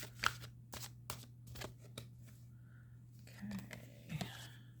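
Tarot cards being shuffled by hand, a run of soft riffling flutters and light card snaps, close and quiet over a steady low hum, with faint mouth sounds near the end.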